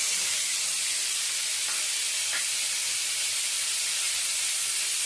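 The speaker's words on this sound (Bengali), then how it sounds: "বাকি যে তেলটা রয়েছে সেই তেলের মধ্যে উচ্ছেটাও ভেজে নেব।" Bitter gourd fries in leftover oil, making a constant, fairly soft sizzle with a couple of faint clicks partway through and no voices.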